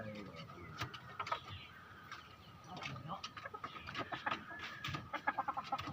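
A rooster clucks softly in a series of short calls over faint background noise, with irregular sharp clicks and rustles around it, close by and fairly quiet.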